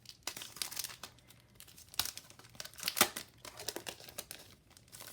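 Packaged greeting cards being unwrapped by hand, with close, quiet bursts of crinkling and tearing plastic wrap in irregular snaps and rustles.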